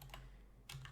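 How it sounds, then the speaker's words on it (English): Computer keyboard keys pressed for a Control-Shift-P shortcut: a few soft, quick clicks in a quiet room, faint and close, with no talking. "we're gonna hold Control-Shift-P on our keyboard"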